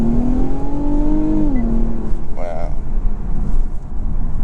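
A 2021 Infiniti Q50 Red Sport 400 pulls hard in automatic mode, its engine note climbing steadily under a single short exclamation from a person inside the cabin, with continuous road and wind rumble.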